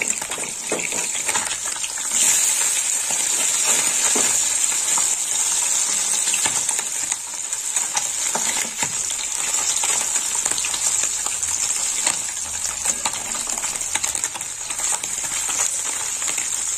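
Continuous close sizzle and crackle of puti fish frying in oil, with scattered pops and light scraping throughout.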